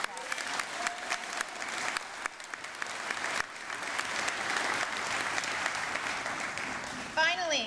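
Applause from a school closing convocation audience, a dense sustained wash of many hands clapping that swells and holds steady, with a brief whistle-like sound near the end.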